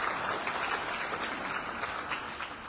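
An audience at the official launch of an executive mansion communication internship program claps steadily in a dense, sustained burst of applause that continues throughout without pause.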